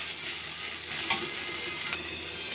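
Diced papaya stir-fried in a pan for a Bengali papaya bhaja, a steady close sizzle with light scraping of the spatula and a brief clatter partway through, no voices.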